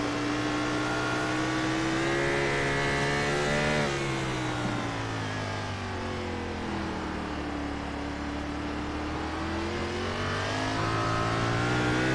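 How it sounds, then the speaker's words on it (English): A race car engine at Road America drones loudly and continuously, its pitch rising and falling as it revs and shifts heading down pit road, with no talking. "You'll hear the beautiful sound of the race cars here as he heads down to pit road"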